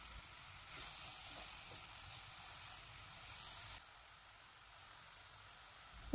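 Onions sizzle quietly in a frying pan, a soft, steady hiss that continues without break and drops slightly in level near the end.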